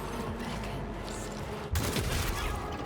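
Gunfire erupts in the video game Warhammer 40,000: Rogue Trader, a sudden loud burst of rapid shots that cuts in partway through over a dense backdrop of game music and ambience.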